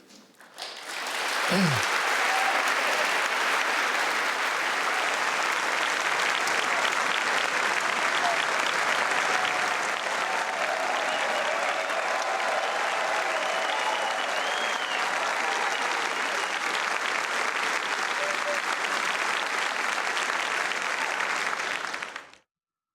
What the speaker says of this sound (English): Standing ovation for checks and balances, cheering for checks and balances.